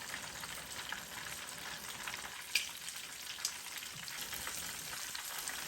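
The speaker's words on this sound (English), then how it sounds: "let them cook a little bit more" Shrimp egg rolls fry in hot oil with a dense, even crackling sizzle that runs the whole time. A couple of faint clinks break through, and it sits close with no voices.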